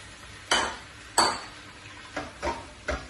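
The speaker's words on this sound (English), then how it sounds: "Just give it a stir together." Rice and vegetables being stirred together in a pan with chili powder and oregano, a few sharp scraping clanks of utensil on metal over a faint background sizzle, irregularly spaced, with no talking.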